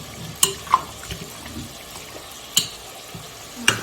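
A spoon scrapes and stirs chicken curry masala paste in a pan, with several distinct clacks against the metal spaced irregularly over a faint background sizzle, close and moderately loud with no talking.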